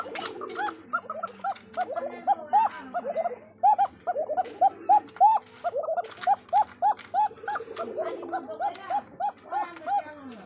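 Racer and Bombay pigeons coo close by, repeating throaty calls in a steady rhythmic series, with a softer, busier stretch near the start and end.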